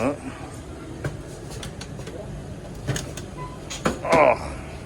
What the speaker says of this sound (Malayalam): ഈ ട്രെയിൻ ആടി ഉലഞ്ഞ് ആടി ഉലഞ്ഞ് ഇങ്ങനെ പൊക്കോണ്ടിരിക്കുകയാണ്